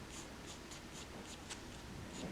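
Graphite pencil strokes on paper while shading hair in a beginner drawing lesson, a series of soft, quiet scratchy swipes in an irregular rhythm, close and faint, with no talking.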